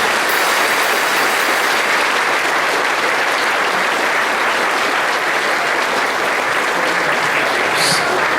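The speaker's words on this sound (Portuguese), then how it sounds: "Vamos aplaudir Jesus bem forte" A church congregation claps loudly and continuously, a dense unbroken wash of applause filling the room for several seconds.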